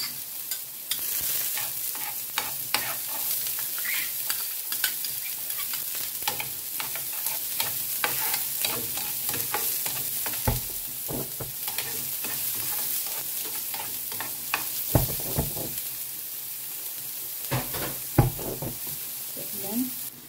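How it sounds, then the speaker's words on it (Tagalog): Garlic hits hot oil in a pan for a pork liver stir fry, giving a dense, continuous sizzle with frequent scraping and knocking of a spatula stirring, close and fairly loud, with occasional faint talk. "At ilagay po natin itong ating bawang."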